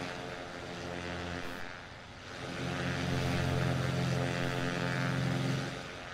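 Propeller airplane flying over California, a steady droning engine that swells louder in the second half and then eases slightly.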